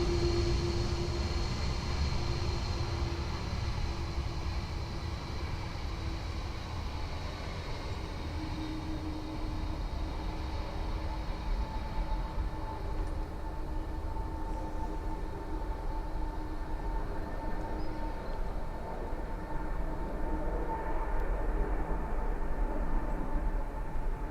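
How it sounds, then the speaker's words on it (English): A steady, distant jet roar from an Airbus A330 airliner arriving from JFK and landing at Dublin Airport, a broad continuous rumble with a faint whine, holding even over the whole stretch without talk. "Another 330 from JFK."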